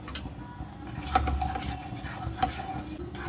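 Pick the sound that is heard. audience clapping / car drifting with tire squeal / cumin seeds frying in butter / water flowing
cumin seeds frying in butter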